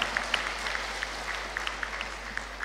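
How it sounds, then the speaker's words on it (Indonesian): Applause from an audience at a university talk, steady dense clapping with a few sharper claps standing out, moderately distant and continuous throughout. "Tepuk tangan untuk pohon-pohon kita."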